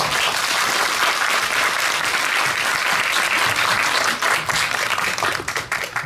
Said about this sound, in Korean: 큰 박수 맞이해 주십시오.